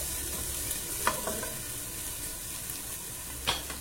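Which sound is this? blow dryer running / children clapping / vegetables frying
vegetables frying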